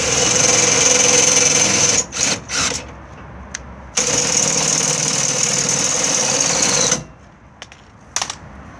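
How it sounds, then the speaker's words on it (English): A cordless drill fitted with a corner-steady attachment winds the corner steadies on an Auto-Sleeper Broadway EK motorhome, loud whirring bursts broken by short pauses, then the motor stops near the end. "you can get these drill attachments, which then makes it"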